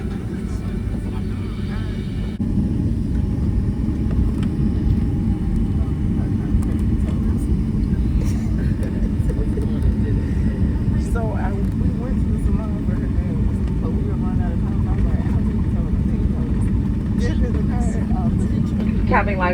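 Delta airliner cabin during takeoff: a loud, steady low engine roar fills the cabin and builds slightly, while voices and an announcement carry faintly over it.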